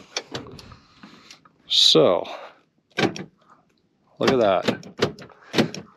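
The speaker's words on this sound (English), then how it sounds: "Both doors lock and unlock as advertised." Power door locks on a 1993 Ford Mustang notchback clunk through lock and unlock cycles, loud sharp actuator bursts near 2 and 4.5 seconds amid several short clicks, with someone talking between them.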